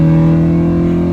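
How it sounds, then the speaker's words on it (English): A Honda Type R engine runs hard in fourth gear on VTEC, a loud, steady, high-revving drone heard from inside the car for about a second, with no speech. "see if you can hear the sound of the VTEC and 4th."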